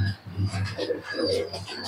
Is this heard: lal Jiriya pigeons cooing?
yes